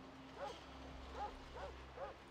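A dog barks in the video game Fallout 2, letting out four short, faint yelping barks spaced unevenly over about two seconds over a steady low hum.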